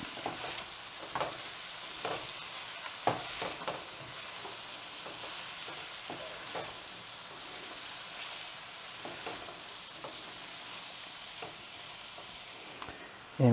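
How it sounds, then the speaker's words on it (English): Peppers and mushrooms stirred into sizzling chicken cacciatore in a pan, a steady close frying hiss with scattered scrapes and clacks of a utensil throughout. "So you want to add those ingredients and give everything a big stir to incorporate it."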